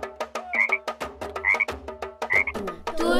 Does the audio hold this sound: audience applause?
no